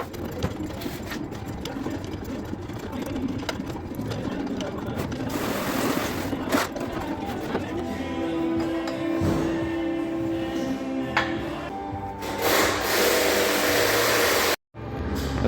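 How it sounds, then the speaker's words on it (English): Workshop noise while a shop press pushes a Toyota Sequoia front wheel bearing into place, a steady mechanical whir and grinding with a brief tonal whine partway through, a person talking over it, and a sudden cutout near the end. "need some kind of shop press for this step. As you're applying pressure, make sure you spin the bearing."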